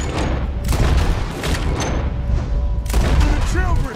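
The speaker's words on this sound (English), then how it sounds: "Sniper rifles on me." Battle in Red Dead Redemption 2 against O'Driscoll gang members, loud rifle fire and booming shots layered over a chaotic background roar, with one sharp burst near the end.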